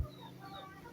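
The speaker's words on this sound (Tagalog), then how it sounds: "Pati yung manok naghihintay." Faint, soft clucking from backyard chickens waiting to be fed, heard alone for a brief moment at low volume.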